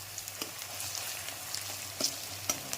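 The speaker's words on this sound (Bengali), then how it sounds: "পেঁয়াজ কুচিটা ভালোভাবে আমাকে এবার ভেজে নিতে হবে, নরম নরম করে ভালোভাবে তেলের মধ্যে দিয়ে ভেজে নিতে হবে" Chopped onions frying in oil over a medium flame give a soft, even sizzle with a few louder ticks and scrape-like stirring bursts, close and fairly quiet, with no talk.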